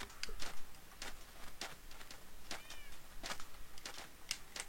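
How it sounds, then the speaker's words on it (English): Cats in a video game meow repeatedly, several short high calls scattered over a faint steady background, fairly soft and with no talking. "the cats are still following me"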